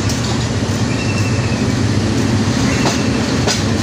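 A large new red-and-green air-conditioned train runs along its tracks, a loud, steady close rumble and clatter of wheels on rails that holds for the whole stretch with no voices.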